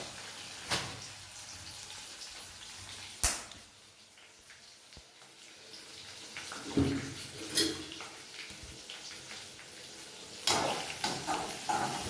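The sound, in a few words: mixing okra curry with a ladle in a pan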